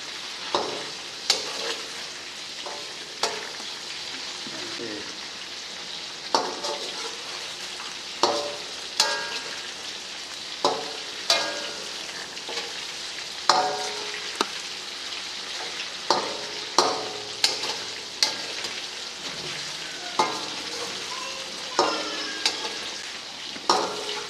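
Chicken karahi sizzling steadily in a pan while being stirred, with a continuous hiss of frying oil and regular sharp scrapes and clinks of the spoon against the metal, close and loud.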